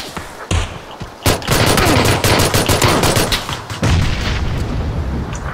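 Dense PUBG gunfire: rapid bursts of automatic shots and booming reports crowd together near and loud, with barely a pause through the whole stretch.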